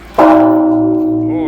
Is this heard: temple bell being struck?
yes